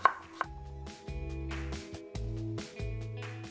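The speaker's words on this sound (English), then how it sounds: "sort of slice your potatoes." A knife slices potatoes on a board for a Lancashire hotpot, a sharp tap and then several drawn-out cutting strokes in an uneven rhythm, close and fairly quiet.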